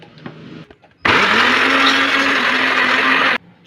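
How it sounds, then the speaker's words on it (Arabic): A kitchen blender whips cake batter of vanilla, vinegar and sugar, kicking in with a loud, steady whir that runs for a couple of seconds before cutting off, with a few small clicks just before it starts. "نفتح كده غطا الخلاط نحط السكر عشان نضرب كله مع بعض."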